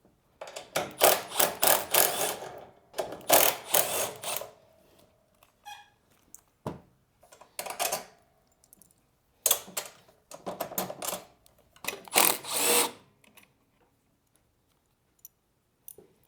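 Repeated bursts of ratchet clicking as a 10mm socket loosens bolts on the chute bracket of a Toro Power Max e24 60V electric two-stage snowblower, each burst a second or two long with short quiet gaps, close and fairly loud.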